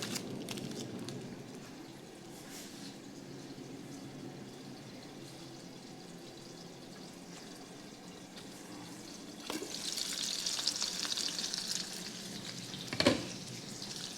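Burger patties topped with cheese sizzle in a hot pan, a steady close frying hiss that grows louder and brighter near the end, with a brief knock or clatter and no talk.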